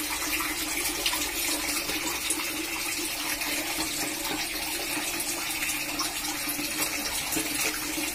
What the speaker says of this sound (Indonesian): Langsung saja kita kasih pakan ikan nila.